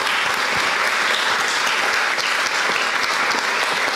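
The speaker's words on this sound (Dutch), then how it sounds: "Geef haar applaus, Tissem." Audience applause welcoming a guest author at a Dutch panel discussion, a dense steady wash of many hands clapping, loud and sustained without a break, no voices standing out.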